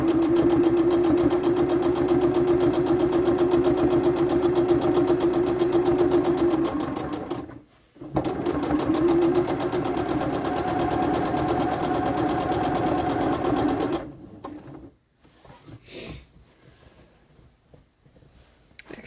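A sewing machine runs a half-inch French seam on a girl's dress cuff, humming loudly and steadily in two long bursts split by a short stop, then falling quiet.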